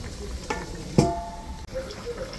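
Katla fish cooking in hot oil with cumin and garam masala paste, a soft steady sizzle with a brief stirring scrape near the middle, close by and moderate in level.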